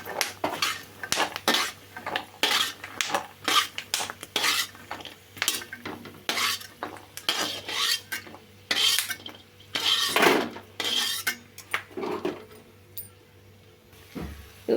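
Freshly fried food, with cashews and almonds for winter laddoos nearby, is scooped from the pan into a vessel, giving repeated close metallic scrapes and clinks of utensils against cookware in an irregular rhythm with no talking.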